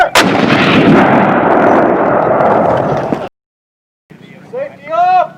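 A loud M18 Hellcat tank cannon blast in the Roblox game Build a Boat for Treasure, one sharp boom rolling into a long rumbling decay, then a pause before brief voices talk.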